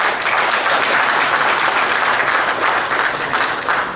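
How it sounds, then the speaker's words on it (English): Sustained, dense applause from an audience at a startup investors' summit pitch session, clapping for the panelists, loud and even from start to finish. "Let's have a big round of applause to our Indian panelists."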